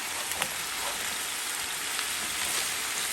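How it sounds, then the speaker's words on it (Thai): Carrot and cabbage stir-fried in a pan for yakisoba with seafood, a continuous close hissing sizzle with small crackles and pops scattered throughout at an even level. "เดี๋ยวแม่หมันจะใส่ผักลงไปผัดนะคะ"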